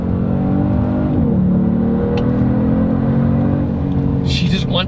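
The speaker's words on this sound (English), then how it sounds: "The turbos spool up so quick." A 2022 Genesis G70 turbocharged sports sedan accelerating, a steady loud engine drone with rising tone and a brief shift dip, heard from inside the car with faint high whistles late on.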